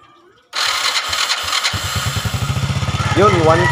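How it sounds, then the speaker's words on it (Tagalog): A motorcycle engine with a weak primary coil kicks on and settles into a loud, steady idle with a rhythmic putter close by, a voice speaking briefly over it. "Tapos subukan nating pandarin yung motor"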